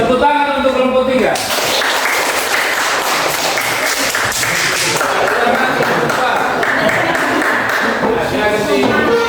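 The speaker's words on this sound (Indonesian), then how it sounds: "Tepuk tangan untuk kelompok 3" A class applauds a student group in a school lesson, steady clapping from many hands filling the room for several seconds, close and loud, with some voices mixed in.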